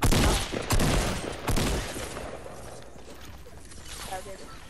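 Rapid gunfire bursts from the video game Fortnite crack loudly at the start and then fade into scattered fainter shots and game noise, with players' voices talking over it.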